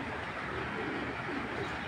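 Racing pigeons in a Bangladeshi loft give soft, low, throaty coos, close and fairly quiet over a faint background hiss, in a brief burst with no talking.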